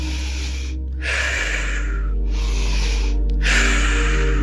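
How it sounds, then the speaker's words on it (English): Slow, deep breaths during a beginners yoga and meditation session, three long airy exhales, each after a quiet gap. The breaths are close, steady and fairly loud over a low constant hum, with no talking. "Breathe in and out."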